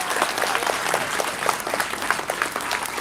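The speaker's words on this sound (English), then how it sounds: "So please, one more round of applause." Audience applause at a live cricket academy event, a steady dense patter of many hands clapping close by, sustained evenly with no voices over it.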